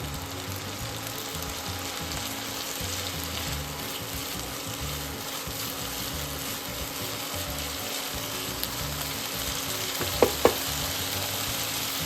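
Onion paste frying in fish oil with black cumin and dried and green chilies, a dense, continuous sizzle and crackle held at an even level, with two brief utensil clicks near the end and no talking.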